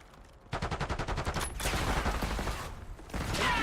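Rapid automatic gunfire bursts in a military shooter video game, a fast rhythmic volley that starts abruptly and continues steadily, near and loud, with a brief pause before firing resumes.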